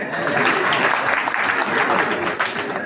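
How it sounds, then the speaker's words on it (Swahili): A church congregation clapping, a dense sustained burst of many hands applauding together with voices mixed in, steady and full for the whole stretch. "Mwapigie makofi"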